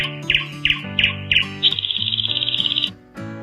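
A bird, a nightingale, sings in short bright chirps: a run of five rhythmic phrases followed by a rapid trilling stretch, loud and close with no other sounds.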